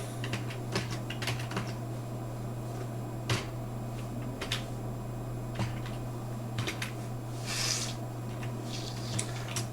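Someone types code on a computer keyboard in a steady patter of key clicks with occasional louder strokes, under a constant low hum from nearby equipment.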